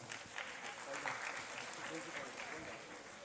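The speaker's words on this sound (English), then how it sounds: "Round of applause for the teacher coordinator guys." Audience applause for teacher coordinators at an inter-school quiz competition held at Sir Padampad Singhania Education Center, steady clapping across the hall with a faint high tone and voices mixed in.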